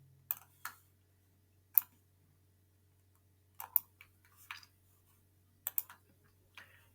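Sparse, faint computer clicks, single and paired taps spaced irregularly over a quiet low hum.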